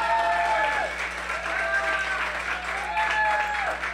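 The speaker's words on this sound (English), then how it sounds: "I want you all to clap for Martha Diaz" An audience claps for the founder and president of an organization at a political gathering, steady applause throughout with several whistles rising above it.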